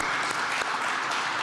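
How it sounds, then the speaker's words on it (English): A brief burst of audience applause during an armchair conversation on a national budget, steady and fairly loud clapping from a crowded room with no voices over it. "I think we can applaud"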